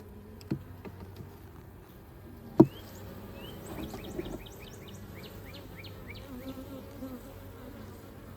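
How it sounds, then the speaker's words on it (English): Bees buzz softly inside an open beehive during a frame inspection, a low continuous drone with a few sharp knocks near the start. "There's a lot of bees down in there."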